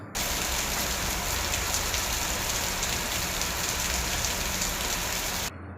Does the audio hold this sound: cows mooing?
no